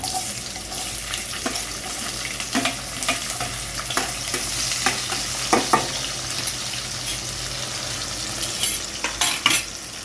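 Onion frying in hot oil with sesame seeds and a pinch of asafoetida, a steady close sizzle broken by repeated scraping stirs of a spoon against the pan, with no talking.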